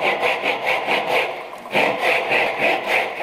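A hand saw cuts a wooden bridle joint in quick, steady back-and-forth strokes, each a rasping scrape, with a short pause mid-way before the rhythmic sawing resumes up close.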